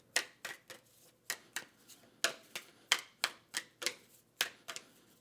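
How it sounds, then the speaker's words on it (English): Board game tiles from Endeavor: Deep Sea being shuffled by hand in sharp, clattering bursts, about sixteen quick clacks in an uneven rhythm, close and fairly quiet with no voices. "go ahead and shuffle up zone 1"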